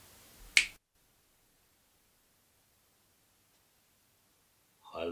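One crisp finger snap near the start over a faint hiss of background noise, followed by several seconds of near silence before a brief rustle at the end.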